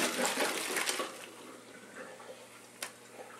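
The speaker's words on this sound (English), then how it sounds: "run some cold water over them. Rinse them with cold water" Cold tap water rinses boiled lasagna noodles in a large colander, a soft splashing gush that is strongest at first and then fades to quieter trickling.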